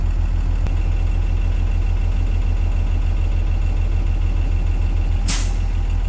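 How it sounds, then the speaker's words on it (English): Air brake governor on a school bus cuts out with one sharp, loud hiss of released air near the end, after a steady, throbbing diesel idle that fills the whole stretch. "there's our burst of air to tell us that our air tanks are back full and at proper operating level"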